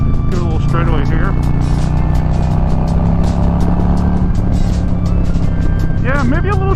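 A 2022 Harley-Davidson Low Rider S pulls out of corners in a low gear, its engine a loud, close, continuous rumble with pitch rising through acceleration, under ongoing talk from the rider.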